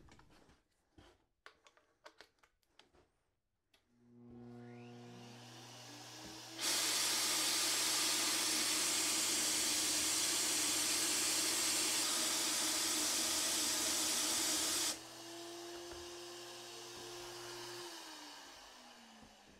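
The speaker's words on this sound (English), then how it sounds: "I'm going to spray the rest of that into this container, and then I'll spray a little air through the gun." An HVLP spray gun discharges lacquer thinner into a container as a steady, loud hiss lasting about eight seconds, with a compressor hum underneath and faint clicks beforehand.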